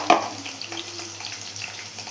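Onions with cinnamon, cardamom and cloves sautéing in a pan make a faint, steady sizzle with a soft scrape of stirring at the start, close and heard without talk.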